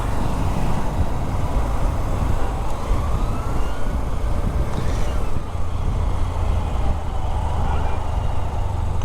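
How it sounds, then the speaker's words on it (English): A siren from an ambulance approaching from behind on the road, rising faintly over loud steady wind and engine roar from a Honda CB125F motorbike, with gentle pitch sweeps buried in the noise. "Nope, ambulance coming up from behind."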